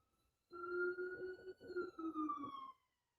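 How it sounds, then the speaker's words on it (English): A single ambulance siren wails for about two seconds, a fairly faint steady tone that gently falls in pitch as it passes, alone without voices. "Stand by for ambulance."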